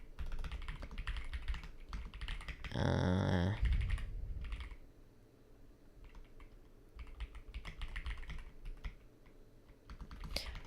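Code typed on a computer keyboard, a dense run of fast, close key clicks with brief pauses, loud and continuous, alone with no talk.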